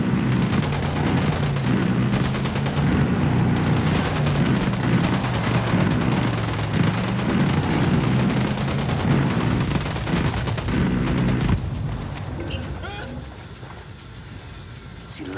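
Gunfire in the game Ghost Recon Wildlands, dense rattling bursts over a rumbling battle bed, loud and sustained before tapering off near the end, with voices mixed in.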